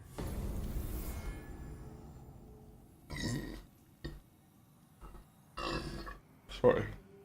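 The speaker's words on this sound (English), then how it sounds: "I feel like a pig sometimes when I have to like let out like a burp." A person burps once, long and loud, after drinking water and Dr Pepper. A few short throaty bursts and grunting sounds follow in an otherwise quiet room.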